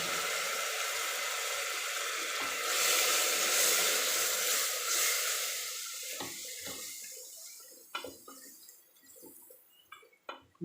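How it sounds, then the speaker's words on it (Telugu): Water is splashed into spice masala of turmeric, chili and coriander powder frying in oil, giving a loud steady hiss that fades into scattered close crackles and pops. "కొద్దిగా వాటర్ వేస్తున్నాను మసాలా మాడిపోతుంది."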